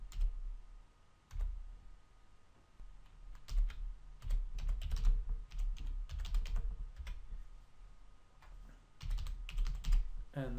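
Someone types an email address on a computer keyboard: irregular bursts of close, crisp key clicks with short pauses between runs of keystrokes, and no voices.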